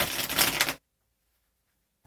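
Tarot cards are hard-shuffled in a fast, crisp riffling burst, close and loud, which then cuts to silence.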